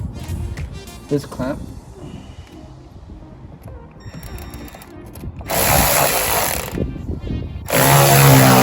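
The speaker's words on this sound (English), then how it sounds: "So I'm gonna tighten up this clamp." A hose clamp on a Banks Ram air intake for a 2017-2019 Chevy Silverado 2500HD Duramax is tightened with a tool, giving close ratcheting clicks and mechanical whirring in bursts, growing louder toward the end.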